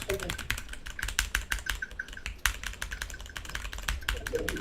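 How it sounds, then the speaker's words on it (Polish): Rapid clicking of computer keyboard keys in an ASMR recording, a busy irregular patter of close taps running throughout, with a faint voice murmuring softly underneath at moments. "nagrywam asymery z mojej klawiatury"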